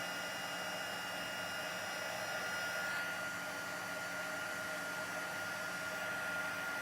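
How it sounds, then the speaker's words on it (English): A heat tool blasts hot air to melt embossing powder on a craft project, a steady close whooshing hum that holds evenly the whole time with no talk over it. "I'm going to bring my heat tool back in and melt that powder."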